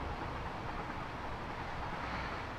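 A freight train runs in the video game Satisfactory, a steady dense rumbling roar of wheels and cars with no breaks, loud and continuous throughout.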